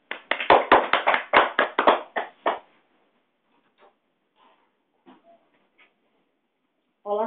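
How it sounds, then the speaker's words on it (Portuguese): About a dozen sharp hand claps in a quick run, loud and close, from a small group applauding a colleague, fading out after two and a half seconds. Faint taps follow, then a voice starts speaking at the end. "Vamos dar umas palmas para ele"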